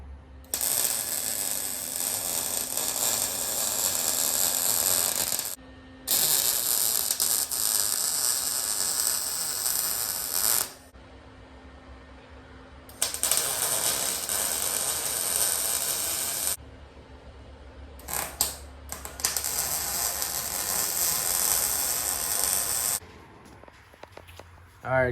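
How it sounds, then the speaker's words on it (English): Welding on a steel square tubing driveway gate frame makes loud, crackling static hiss in four long bursts, each several seconds long, separated by short pauses. A low steady hum runs underneath throughout. "Let's get this frame here all welded up on both of them"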